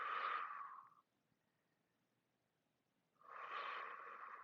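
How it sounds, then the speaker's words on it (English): Two slow breaths taken while holding a yoga backbend with the hips pressed into the floor, one at the start and one at the end, each a soft airy rush separated by a quiet pause. "And you just breathe here."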